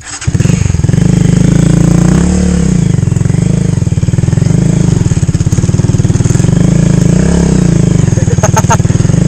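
Motorcycle engine on a motocamping trip at Siitan Nature Park in Nagtipunan, Quirino Province, loud and close, idling and revving in a few swells throughout.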